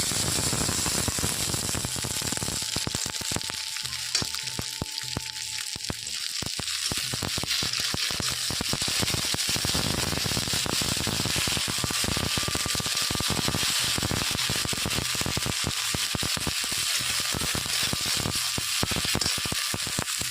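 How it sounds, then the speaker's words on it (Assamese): Spices frying in oil with onions in a pan, a continuous close sizzle with scattered crackles and spatters lasting the whole stretch, no voices. "মছলাখিনি অলপ সময় ভাজি ল'ব লাগে, নহ'লে কেঁচা কেঁচা গোন্ধ থাকে।"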